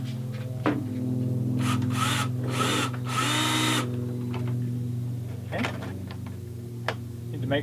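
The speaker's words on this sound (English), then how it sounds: "I'm just going to take my drill here, line up that hole, and screw this in here." A power drill drives a screw into a solar light mount, with several short whirring bursts and pauses, close and clear over a steady background hum.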